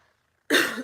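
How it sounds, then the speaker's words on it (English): After near silence, one short, harsh throat clearing bursts out close and loud, then trails off quickly. "Excuse me, let me just clear my throat."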